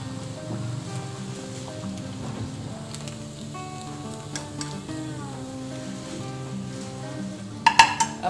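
Taro (arbi) pieces frying in hot oil, giving a steady close crackle and sizzle with a few louder bursts near the end.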